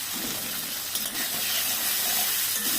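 Semolina pulao with a little turmeric and salt frying covered in a pan, giving off a steady, dense hiss and sizzle that stays even and fairly loud throughout with no talk.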